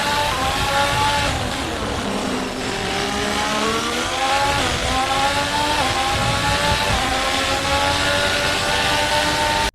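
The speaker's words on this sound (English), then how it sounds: "The sound of the engine roaring while shifting gears matches the visuals perfectly" A racing car engine, AI-generated, roars continuously at high revs, the pitch climbing and dropping as it shifts through gears, loud and close throughout with no voices.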